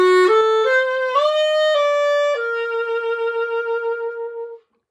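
A jazz clarinet plays a short, close, solo melody, a few stepped notes ending on a long held tone with broad, pulsing vibrato.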